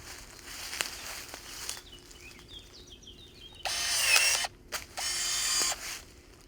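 Einhell 18V cordless pruning shears (GE-LS 18 Li) snipping small branches: quiet clicks and a brief whirring cut, then two louder, sustained bursts of motor and blade noise near the end, close by with no talk.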